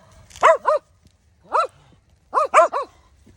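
Dogs bark on a muddy hiking trail: two quick barks, a single bark, then three more in a fast burst, loud and close with quiet gaps.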